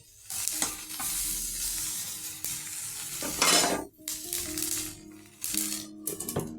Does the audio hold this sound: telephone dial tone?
no